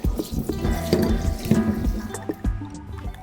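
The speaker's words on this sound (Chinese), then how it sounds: "把切好的鸡肉清洗干净" Cut pieces of chicken being rinsed and rubbed in a bowl of water, with close splashing, dripping and sloshing in an irregular rhythm.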